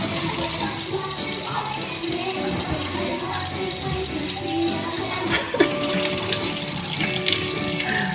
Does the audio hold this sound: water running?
yes